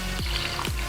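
Liquid for a Tamil neer moru (spiced buttermilk) recipe pours into a big cup, giving two short splashy gushes close by, each a quick falling swoosh, with no talk over them.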